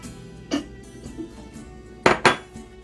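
A bowl is taken out for making pie crust, and dishes clink a few times, sharp and close, with two louder knocks together near the end.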